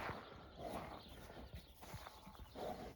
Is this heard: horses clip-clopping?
yes